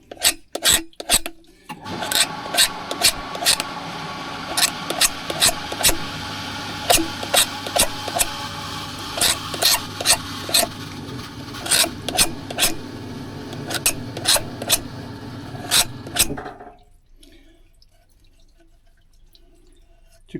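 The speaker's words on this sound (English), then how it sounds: "I'm just using the edge of my knife" A knife edge scrapes rhythmically along an edge to chamfer it during swim pond water mine work, making repeated close rasping strokes that stop after about sixteen seconds, leaving near silence.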